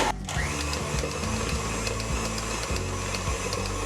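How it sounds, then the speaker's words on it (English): Electric stand mixer beating pink buttercream frosting on low speed, a steady close motor hum with rhythmic clicking pulses from the beater, loud and continuous with no talk. "I'm going to go ahead and mix this on a low speed until the frosting has reached the desired color"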